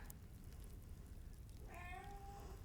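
A domestic cat gives one short, faint meow near the end, rising and falling, heard indoors against a steady noisy background hiss.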